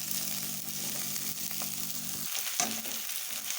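Cauliflower florets and potato pieces hit hot spiced oil in a pan with a loud, dense sizzle. A low rumbling hum under it cuts off midway, and a brief clatter of stirring follows. No voices.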